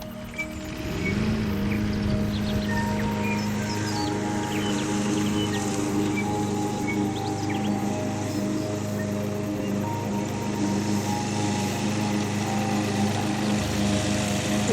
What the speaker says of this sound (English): already on the lawnmower mowing up their tent site